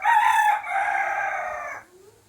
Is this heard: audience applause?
no